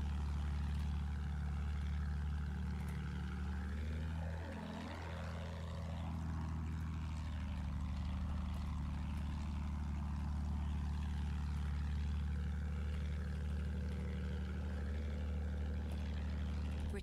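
A propeller airplane in the Battlefield 1 video game roars steadily throughout, swelling and dipping as it passes close by, with constant loud engine drone and no talk.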